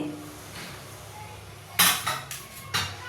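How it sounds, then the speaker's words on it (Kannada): A plate is taken out in a home kitchen during chutney cooking, making a few sharp, close clatters and clinks of dishes and cutlery after a quiet start. "ತಟ್ಟೆ ತೆಗೆದಿದ್ದೀನಿ"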